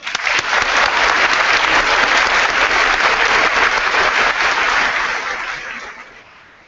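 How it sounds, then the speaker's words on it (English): Dense, loud audience applause fills a high school commencement ceremony, steady and sustained before fading out over the last second or two. "I do believe that they are deserving of another round of applause."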